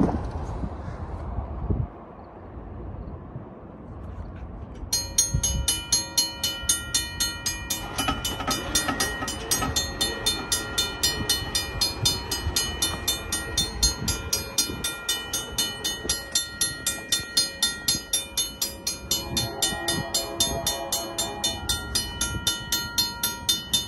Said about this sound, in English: here comes the BNSF train